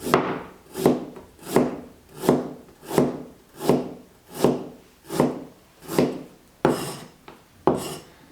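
A knife slices through a piece of ginger on a chopping board in a steady, evenly spaced rhythm of about a dozen close, crisp cuts, each ending in a soft knock on the wood.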